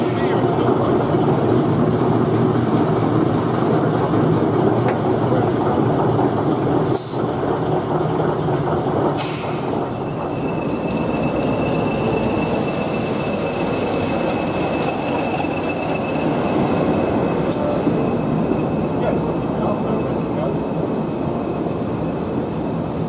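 A British Rail Class 03 diesel mechanical shunter runs with a continuous heavy rumble and rattle, joined by sharp clanks and a long thin wheel squeal, loud and close throughout.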